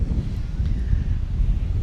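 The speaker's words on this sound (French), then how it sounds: "Il y a un vent gelé qui est en train de venir." Icy wind blowing steadily outdoors, a continuous low roar and buffeting rush against the microphone with no pauses.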